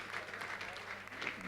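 Audience clapping at a comedy show, a steady dense patter of applause held for a moment and fairly quiet, with no voices over it.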